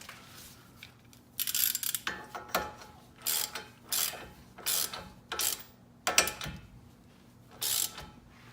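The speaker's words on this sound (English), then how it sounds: "so I'll just go with the socket here" Socket wrench ratcheting a locking nut onto a tie rod end of a 2004 Nissan Maxima, heard as repeated bursts of quick clicking strokes, close and clear, with short pauses between strokes.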